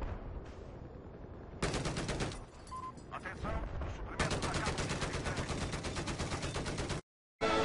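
Rapid bursts of automatic gunfire in the video game Battlefield 4 crackle in long sustained volleys, broken by a brief quieter pause with faint muffled sounds, then cut off abruptly.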